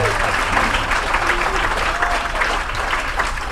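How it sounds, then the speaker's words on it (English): Audience applause at a comedy show at an Elks lodge, a full crowd clapping steadily in a room, loud and sustained with a few faint voices mixed in. "need a special round of applause for getting up here and doing whatever they did"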